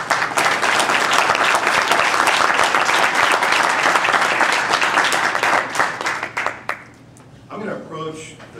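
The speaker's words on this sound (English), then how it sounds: "let's give a round of applause to Carmen, to the organizers, to the staff who made this possible." Audience applause at a Via Campesina event, a full, loud wash of many hands clapping for several seconds before tapering off as a voice begins.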